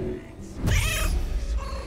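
A cat in the Baldur's Gate 3 video game gives a loud, growling roar that swells at once and holds for about a second over the game's background sound.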